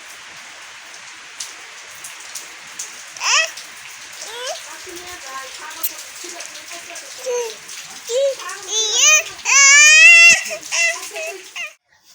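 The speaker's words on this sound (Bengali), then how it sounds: "আবার বৃষ্টি শুরু হয়েছে।" Steady rain pours down in a village, a continuous broadband hiss on surfaces throughout, with children's voices and an occasional wail or cry rising over it toward the end.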